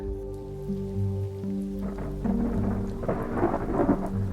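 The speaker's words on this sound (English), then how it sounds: "Really good afternoon thunderstorm here over the North Rim. And we're getting some ground strikes." Thunder rolls and rumbles from an afternoon thunderstorm with ground strikes over the Grand Canyon's North Rim, a deep continuous roar building louder toward the end, mixed with the patter of rain.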